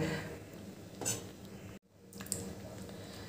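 A metal spatula clinks and scrapes inside a pot of simmering masoor dal with potatoes, giving a few soft knocks and a short scraping stir, close but quiet.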